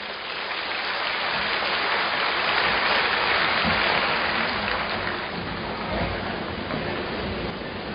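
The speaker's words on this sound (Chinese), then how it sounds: "让我们掌声欢迎。" A seated audience at a Buddhist sharing gathering claps steadily in a dense, even wash of applause lasting several seconds, with no speech over it.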